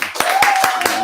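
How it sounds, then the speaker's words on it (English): Audience claps for a singer at a small live show, heard as a short burst of distinct, close hand claps with a tone ringing underneath. It lasts only about a second. "give a huge round of applause for the magical"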